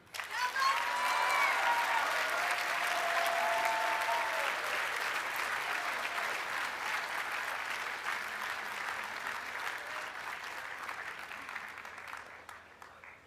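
A large commencement crowd at a school graduation ceremony claps in a long, even wash of applause, with a few brief whoops near the start and the clapping gradually thinning and fading toward the end.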